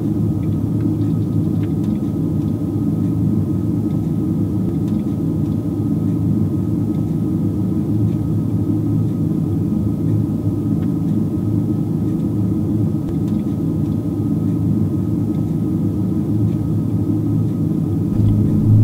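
Steady, loud aircraft engine rumble inside a flight simulator, a continuous low drone that holds evenly throughout with no talking.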